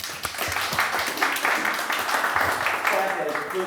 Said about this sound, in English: Please give the staff a round of applause.